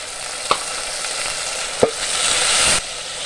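Chopped garlic is added to browned onions frying in a pan, giving a steady close sizzle with two sharp clinks from a spoon against the pan.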